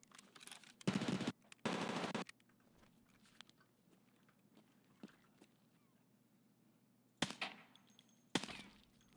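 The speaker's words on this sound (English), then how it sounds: "It's a loud MP5." An MP5 submachine gun in Escape from Tarkov fires two loud bursts close together, then quieter shots follow after a pause, with a few sharp reports near the end.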